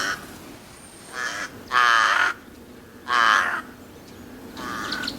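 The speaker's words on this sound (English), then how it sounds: "crow." A crow calls in three or four harsh, rasping caws spaced about a second apart, fairly close and loud against quiet outdoor background.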